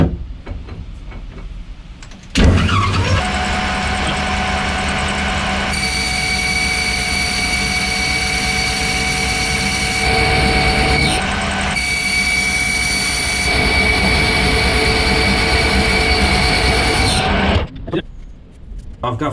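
An Archdale vertical milling machine starts running at 610 RPM, its slowest speed, with a sudden onset into a loud, steady mechanical whine and hum that continues evenly before cutting off near the end.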